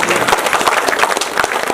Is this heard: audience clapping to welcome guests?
yes